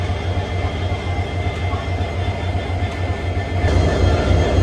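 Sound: train locomotive at railway station platform

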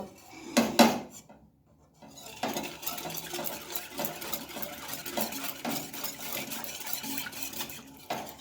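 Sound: mixing ingredients in a bowl

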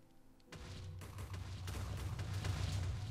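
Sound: TNT explosion lit by Flame enchanted arrow in Minecraft video game

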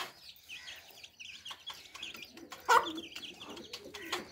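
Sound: chickens clucking

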